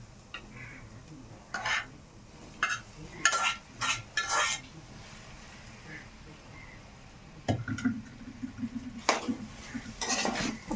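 A spoon scrapes and clatters against a cooking pot while chili-coated mutton is stirred into a gongura curry, a few bursts of metal knocks and scraping separated by quiet gaps of low simmering.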